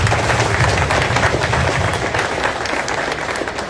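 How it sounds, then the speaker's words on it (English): A room full of people at a founders' event in a coworking space breaks into loud, dense clapping that carries on evenly throughout. "can we have a round of applause for all of them, please?"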